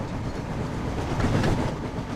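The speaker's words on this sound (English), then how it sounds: "The train was soon running nicely, and James began to feel confident" A train from the Thomas and Friends video game runs on rails with a steady, close rumbling roll and faint rhythmic clatter, continuous and fairly loud throughout the short stretch.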